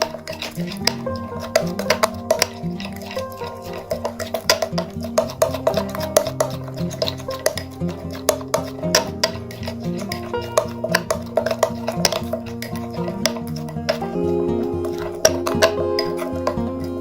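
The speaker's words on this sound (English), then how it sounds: "add 1 teaspoon of fresh lemon juice like so, and mix well all the ingredients" A spoon stirs instant coffee mixed with fresh lemon juice in a bowl, producing a steady run of close, repeated clinks and scrapes against the dish, with a faint musical background and no talk.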